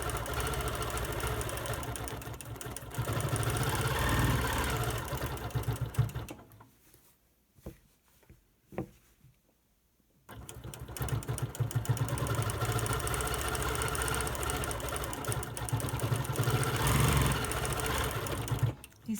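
A quilting machine stitches loops across a quilt block, a steady close mechanical whir that stops briefly for a few clicks and handling noises, then resumes its continuous hum.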